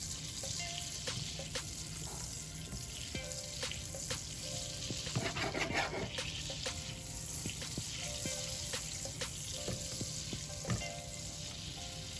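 Butter cooking slowly in a pan toward browning gives a steady, dense sizzle and crackle throughout, with small pops scattered over the continuous hiss and no talking.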